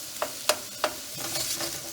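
Tomato sauce with pork and zucchini cooking in a pan for rigatoni, a steady soft sizzle broken by a few sharp stirring scrapes near the start.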